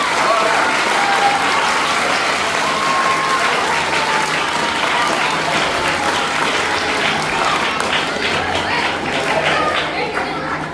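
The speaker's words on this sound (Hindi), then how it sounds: "जोरदार अपने माताओं के लिए तालियां बजाओ" Sustained loud applause from a large crowd at an Independence Day school celebration honouring the mothers, dense continuous clapping filling the space with faint chatter beneath.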